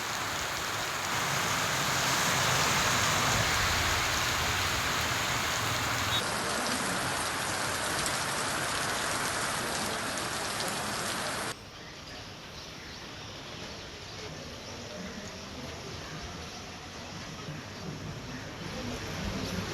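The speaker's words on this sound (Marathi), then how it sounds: "वेगवेगळ्या ठिकाणी पाऊस कोसळतोय" Heavy monsoon rain in Maharashtra pours down in a loud, dense, continuous hiss, dropping slightly in intensity partway through but never letting up.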